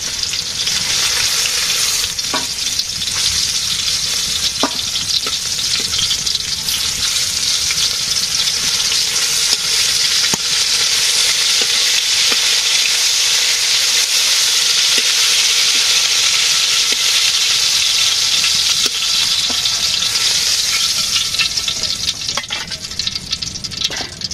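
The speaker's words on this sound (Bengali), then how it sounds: "পেঁয়াজ ভাজি হয়েছে" Onions frying in a pan, a loud, steady, dense sizzle that keeps up without a break from start to finish, with faint stirring sounds underneath.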